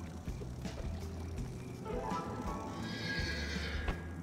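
A horse in a video game whinnies and neighs, with hoof clip-clop and game ambience underneath, fairly close and moderately loud.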